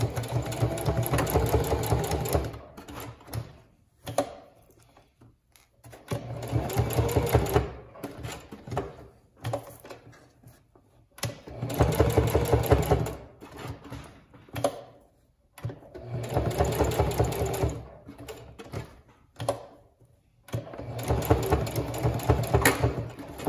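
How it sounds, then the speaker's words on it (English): A sewing machine stitches Velcro onto a notebook in rapid bursts of mechanical whirring, each run lasting a few seconds and separated by short pauses, close and clear. "You just sew it the same way you would sew anything else"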